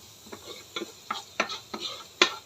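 Garlic sautéing in a frying pan for fried rice, stirred by hand in several distinct scraping strokes over a soft sizzle, close and fairly quiet, ending on a sharper clatter.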